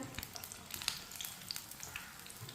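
Pakoras sizzle steadily as they fry in hot oil in a pan, a quiet continuous crackle broken by small pops, with no one talking.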